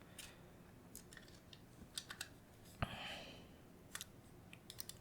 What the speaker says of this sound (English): I'll make sure whether all the clicks are working